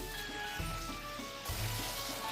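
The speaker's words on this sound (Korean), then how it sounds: "오일을 두른 후 파를 먼저 볶아줄게요" Green onion stir-frying in oil in a pan, later joined by drained eggplant, giving a steady, fairly faint sizzle with a few low thumps from stirring and no voices.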